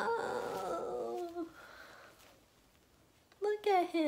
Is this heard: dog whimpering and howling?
yes